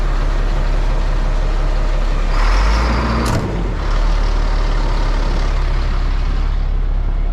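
A work truck's engine runs loud and steady, then rises in pitch and volume after its power take-off is engaged; a brief hiss and clunk occur midway, with no talking.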